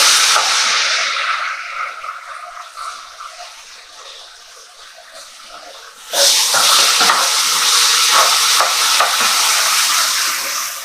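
Chicken being stirred in a sizzling pan for creamy honey mustard chicken, with a steady scraping stir over a loud hiss of frying that briefly quietens before swelling up again close by.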